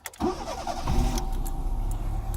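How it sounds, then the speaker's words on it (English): A Fiat Tempra's engine cranks briefly and catches, then settles into a steady, close-up idle that runs to the end. "So, let you hear the car start."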